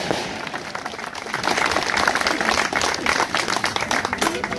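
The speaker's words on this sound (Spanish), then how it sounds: "Les pido, reiteremos el aplauso, por favor" Outdoor crowd applause at a Franciscan anniversary celebration, honouring workers who raised a cross, building from scattered claps into a dense, sustained ovation from many people.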